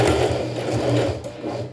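A sewing machine stitching fabric and backstitching: a steady, close, fast-running motor hum with rapid needle chatter that slows near the end, with no talking.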